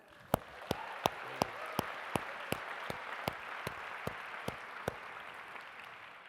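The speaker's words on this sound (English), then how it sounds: "Huge round of applause for all of them." Audience applause at a university speaker series event featuring Malcolm Gladwell, a soft, distant patter of clapping cut through by evenly spaced, sharp individual claps in a steady rhythm.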